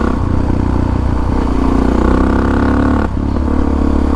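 Motorcycle with an aftermarket pipe and a carburetor running rich, revving hard and loud up close, with a rattly clatter and a brief dip before picking back up.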